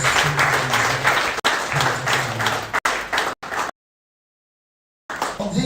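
Audience applause at a lecture, a dense wash of clapping that runs steadily with a couple of abrupt cuts, then breaks off into complete silence before resuming near the end.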